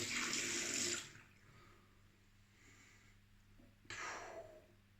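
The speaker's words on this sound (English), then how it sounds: "Let's heat up that blade. Nice hot water." Hot water gushes from a tap in two short bursts, about a second each, separated by a quieter pause, warming a straight razor blade.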